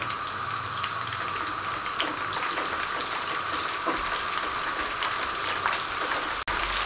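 Eggplant pieces frying in hot oil give a steady, even sizzle that runs without a break from start to finish at moderate loudness.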